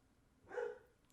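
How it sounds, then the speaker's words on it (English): A pet dog gives a single short, fairly loud bark indoors, alone and without other sounds around it. "that's our dog."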